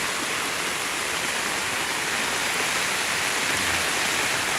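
Strong flood water rushing fast and loud through a flooded area in Songkhla, Thailand, a steady broadband roar that stays dense and unbroken throughout, with no voices.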